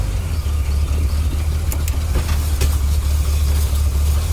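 A 1974 Corvette Stingray being driven up and down a street, its engine a steady low rumble throughout with a few light rattles and clicks over it, close and loud, no talk.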